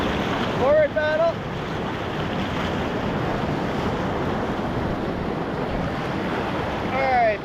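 Canoe paddling forward on a remote Arctic river, with a continuous rushing wash of water and strong wind buffeting the microphone, plus a couple of faint tonal chirps near the start and end.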